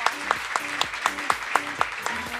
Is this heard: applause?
yes